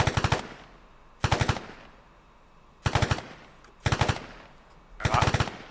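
Arma 3 machine guns firing in five separate loud, close bursts of rapid shots, each a few tenths of a second long, with short quiet gaps between them.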